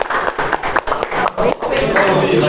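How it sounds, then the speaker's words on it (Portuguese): An audience claps for a person, a burst of many hands applauding nearby with uneven, sharp strikes that grow into a thicker, sustained round over a couple of seconds, with some speech mixed in. "Palmas para o Eduardo."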